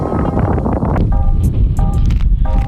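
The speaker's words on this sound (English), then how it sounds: "it's super windy" Steady wind buffeting the microphone at the Dumont Dunes sand dunes, a loud continuous low rumble with gusty texture and faint brief tones in the background.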